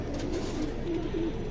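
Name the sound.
pigeons cooing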